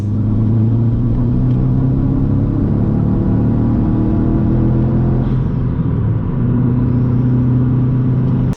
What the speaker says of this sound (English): So that right there was the car misfiring.